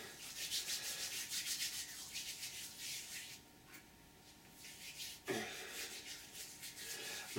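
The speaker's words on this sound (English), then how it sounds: "What we'll do first is get some of this hemp oil. Rub that on the fingers." Hands rubbing hemp oil onto fingers make a steady, close dry rubbing and swishing in quick strokes, pausing briefly midway before resuming.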